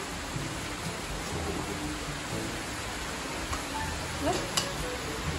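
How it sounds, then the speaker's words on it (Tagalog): Steady heavy typhoon rain in Infanta hisses throughout, a dense wash of noise with a few faint louder drops near the end, no voices. "Malakas pa rin po ang ulan, pero hindi na masyado katulad po kanina."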